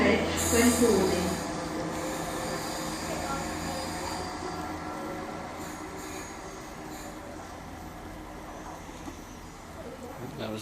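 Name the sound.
train to Portsmouth Harbour passing through Westbury station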